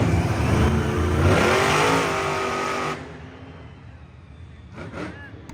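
The monster truck Son of a Digger revs hard during a slap wheelie at a Monster Jam stadium event in San Diego. A loud, rising engine roar sits under a commentator's voice, then cuts down sharply to a quieter idle with crowd noise.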